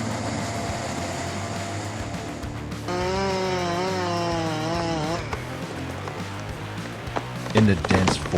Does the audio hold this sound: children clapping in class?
no